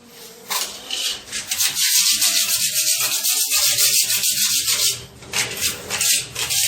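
Scraping of frozen water-based paint off a wall: steady, loud rasping strokes near at hand, running almost continuously with a brief pause partway through.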